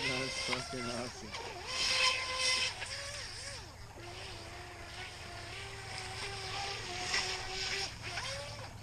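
A small RC jet boat's whining brushless electric motor rises and falls in pitch as it moves across water, steady and fairly distant, with people talking over it.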